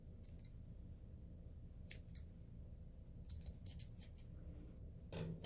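Scissors snip through yarn during a finger-knitting craft, a few quick separate cuts spaced over several seconds against a low steady background hum.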